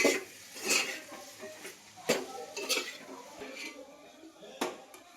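A utensil clinks and scrapes against a pan while cluster bean egg curry is stirred, giving scattered metallic taps and short scrapes at an uneven pace, fairly quiet and close, with no talking.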